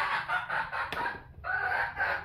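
Chickens near a farm field cluck and a rooster crows, a short run of loud, close calls with a brief break midway.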